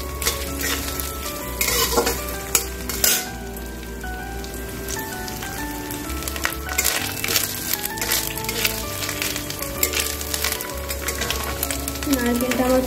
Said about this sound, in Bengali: নারকেলটা আমার ভাজা হয়ে গেছে